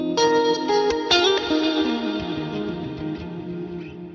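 Electric guitar through a Fender Bassman and Vox amp pairing with a heavy reverb and delay preset, edge-of-breakup tone: two strummed chords ring out and wash into a long, swirling echo tail, loud and alone.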